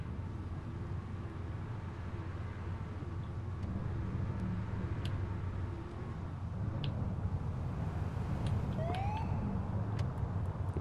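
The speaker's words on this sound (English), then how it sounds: "that's got to be an ambulance." Ambulance siren on a city street in GTA IV, a faint distant wail rising and falling over steady traffic and engine rumble, with brief sharper siren sweeps near the end.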